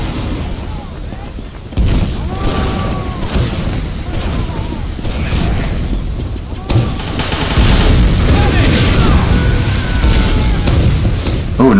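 Rapid gunfire and booms fill a Team Fortress 2 Classic match, loud and continuous, while players talk over the shooting.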